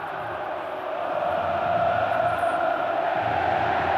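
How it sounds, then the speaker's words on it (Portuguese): Botafogo supporters chant together in a stadium before a match, a broad, distant roar of massed voices that swells slightly and holds steady. "Ah, é a torcida cantando."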